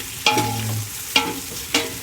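Eggplant sizzles loudly in a frying pan while a utensil scrapes and stirs in three quick strokes, close up.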